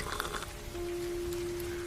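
Rain falls near a riverside village tea stall, a soft, continuous patter joined midway by a steady tonal hum that holds to the end.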